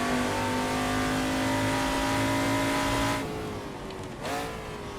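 Ford XA Falcon race car at Bathurst accelerating hard, a loud close engine note climbing steadily through the gears, then a sharp drop and a fresh rise after a quick upshift.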